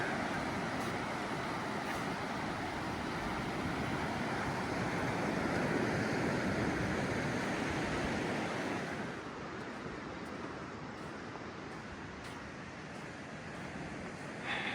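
Ocean surf washing onto the beach at Point Addis, a steady broad roar of waves with wind, continuous and moderately distant, easing slightly toward the end, with no voices.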